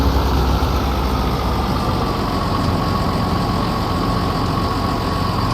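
A tractor engine in Farming Simulator 19 rumbles steadily at a constant, loud level with a low, even drone and no change in pace, alone without speech.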